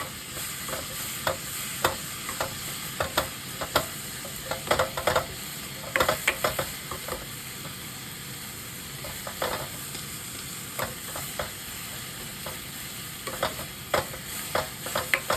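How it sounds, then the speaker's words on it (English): Onions frying and browning in a pan for Japanese-style hamburger steak: a soft, continuous sizzle with scattered sharp clicks and taps from stirring, moderately quiet and close, with no voices. "Now the onion is starting to caramelize."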